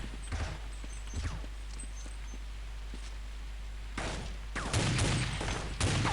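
Gunfire in the video game Counter-Strike 1.6: scattered single shots and footstep-like taps early on, then dense bursts of rapid fire in the last two seconds over a constant low game hum.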